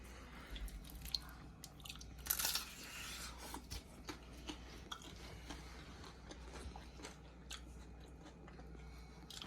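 Someone bites into and chews a crispy shrimp roll filled with cream cheese. Faint, close crunches and wet chewing clicks come in an irregular patter, with one louder crunch near the start and no talking.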